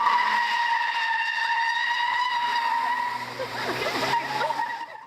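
A skid car's tires squeal during a high school driving demonstration, a loud, sustained, steady screech that holds for several seconds before tailing off.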